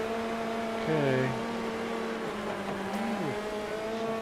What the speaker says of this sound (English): Some tight racing there in the open wheel cars.